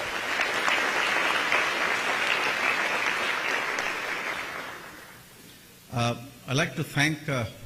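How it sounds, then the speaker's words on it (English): Applause from an audience at a Silicon Valley community event with tech leaders rolls on steadily for about five seconds, fading toward the end before a voice begins speaking. "Please give them a round of applause."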